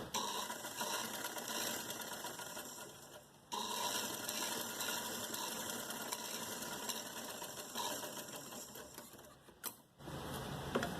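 A sewing machine running in steady bursts, straight-stitching a short frock, with a rapid even mechanical whir that stops briefly twice.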